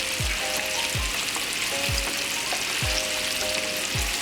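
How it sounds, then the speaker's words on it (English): Pieces of lemon pepper fry in a pot with a steady, loud sizzle and crackle, broken by a few regular low knocks and light stirring sounds, and no voices. "Now we're gonna put the last of our lemon pepper in the pot to fry"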